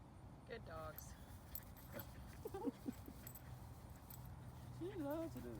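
Dogs whimpering in short, high, wavering whines, a couple of brief cries midway and a longer drawn-out whine near the end, faint against a low steady background hum.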